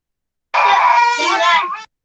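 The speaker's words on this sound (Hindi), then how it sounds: "कौन चिल्लाया?" A loud scream in a chemistry classroom: a single strained, voiced cry lasting just over a second, starting abruptly after silence and cutting off sharply.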